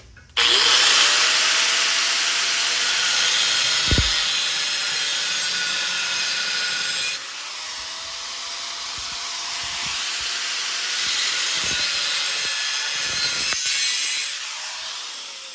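A power saw cuts through a live edge wood slab being made into a standing desk, a loud steady whine running almost the whole way with brief dips and shifts as the blade works through the slab.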